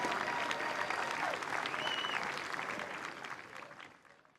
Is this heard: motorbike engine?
no